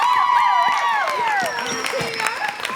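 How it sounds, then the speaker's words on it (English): A live theatre audience at a P.T. Barnum-themed stage show applauds and cheers a volunteer after an apple-shooting trick, with clapping and raised voices filling the room steadily and loudly throughout. "Applause for our volunteer."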